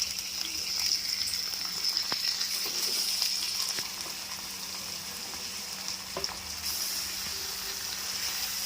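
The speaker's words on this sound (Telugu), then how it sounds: "ఉల్లిపాయలు దోరగా వేగిన తర్వాత మనం చికెన్ చక్కగా కడుక్కొని తెల్లగా కడుక్కొని వేసుకోవాలి" Washed chicken pieces sizzle in hot oil with browned onions for chicken biryani, a steady, close, dense frying hiss that continues throughout with a few faint stirring clicks and no talking.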